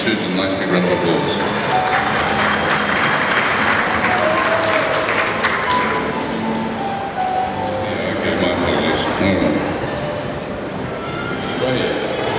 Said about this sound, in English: Susan, nice big round of applause.